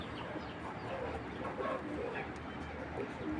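Giribaj pigeons, two males and a female, cooing faintly among broadband background noise, soft low murmurs without clear separation.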